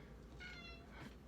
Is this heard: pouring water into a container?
no